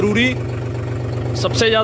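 A John Deere tractor engine, fitted with a dry-type air filter, runs at a steady idle with a low, constant hum while voices talk over it.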